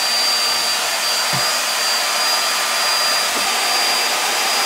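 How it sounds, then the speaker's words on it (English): A hair dryer blows steadily and loudly at close range, heating adhesive on a painted wall, a continuous unbroken whoosh with a faint whine running throughout and no speech. "I'm going to use this hair dryer here to do it so I can heat up the glue"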